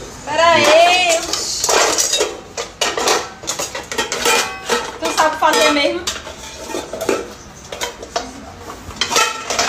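A large cooking pot being handled for making popcorn, with metallic clanks, scrapes and clattering of pots and utensils throughout, close and fairly loud, mixed with people talking.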